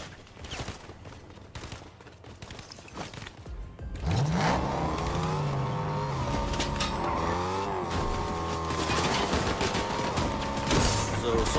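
A car in Fortnite drives off after a stretch of scattered gunfire-like cracks, its engine rising into a steady, loud drone with pitch shifts as it accelerates and cruises, while a voice talks faintly now and then.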